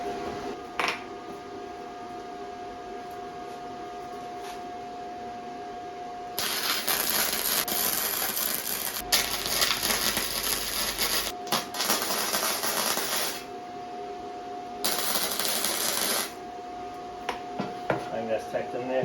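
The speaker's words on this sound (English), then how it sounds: "So I'm just going to tack this in and then take the link bars out" Welder tacking link bars in place, three broadband crackling bursts of several seconds each, near and loud, separated by quieter shop hum.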